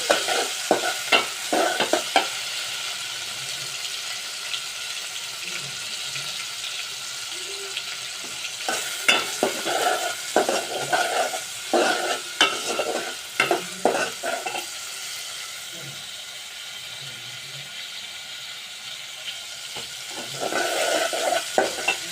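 Prawns frying with onions in a pan, a soft steady sizzle broken by repeated bursts of spatula stirring and scraping against the pan, heard up close.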